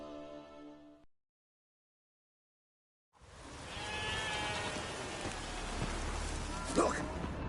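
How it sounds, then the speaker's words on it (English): Rain falls in The Witcher 3: Wild Hunt. A brief moment of voice or tone is followed by two seconds of silence, then a steady, fairly loud downpour hisses, with a few sharper sounds near the end. "There's no point standing here in the rain."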